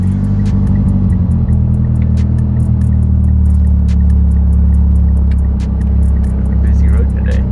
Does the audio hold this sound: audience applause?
no